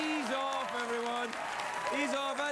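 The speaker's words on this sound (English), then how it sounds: "Let your applause ease off, everyone." A studio audience at a late-night talk show keeps up a soft wash of clapping as someone talks loudly over it, the applause easing back beneath his voice.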